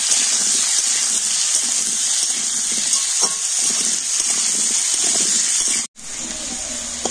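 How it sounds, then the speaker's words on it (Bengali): Potato pieces fry in hot oil with turmeric and salt, a steady loud close sizzle with faint stirring, continuous throughout apart from a brief dip near the end. "তো হলুদ আর লবণ দিয়ে আলুগুলোকে একটু লাল লাল করে ভেজে নেব।"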